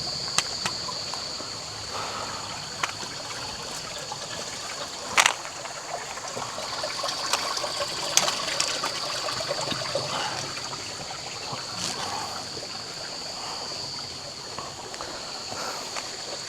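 Creek water trickles and flows steadily over rocks at a hiking-trail crossing in Lamington rainforest, a continuous close burble with faint bird calls above it.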